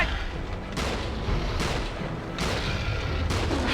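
Gunfire from the King Kong video game comes in four evenly spaced booming bursts, about one every second, over a constant rumbling background.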